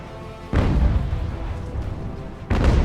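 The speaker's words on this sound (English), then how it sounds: "Mortars are firing on the attacking line." Mortars firing on an attacking line in the Ultimate Admiral: Age of Sail siege of Toulon, with two heavy low booms about two seconds apart, each followed by a rumbling decay.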